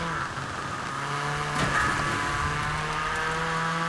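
A 1990 Nissan Pulsar GTiR hatchback engine in the racing game Forza Horizon 4, a steady mid-pitched hum holding at a constant moderate level with a slight swell partway through, no talk.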